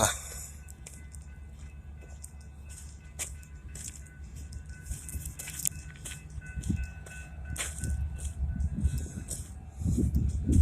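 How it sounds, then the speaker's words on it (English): A low rail rumble builds slowly over several seconds, with faint clanks and squeaks as a slow train draws closer to a railroad crossing in Tennille, Georgia. "But there's a train coming."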